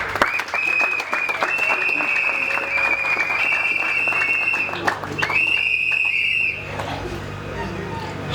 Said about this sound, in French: tout droit à nos acclamations